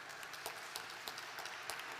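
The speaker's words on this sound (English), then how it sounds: "So a big round of applause" Faint, distant applause from the audience for a singer at a Somali Week Festival launch event, a thin steady patter with a few sharper individual claps standing out.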